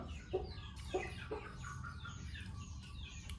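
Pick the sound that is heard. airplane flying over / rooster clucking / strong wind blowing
rooster clucking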